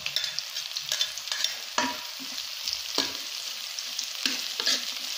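Onion and garlic sautéing in a hot pan for Filipino adobong isaw, with a steady crackling sizzle broken by several stirring scrapes and clinks close by.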